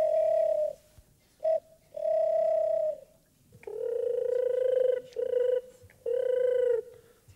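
A person imitates the purring coo of a European turtle dove, several sustained tonal phrases with short gaps between them, close and clear with no other sounds.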